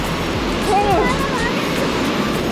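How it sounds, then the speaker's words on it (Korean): Strong ocean waves crash on a beach in Phuket, Thailand, on a cloudy, windy rainy-season day, a steady loud roar of surf with wind noise and a brief faint voice underneath. "파도가 장난이 아니야."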